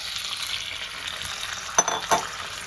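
Potatoes and eggplant sautéing with spices in a pan for a Bengali vegetarian dish, a gentle steady sizzle with two short clinking scrapes of a spatula near the end.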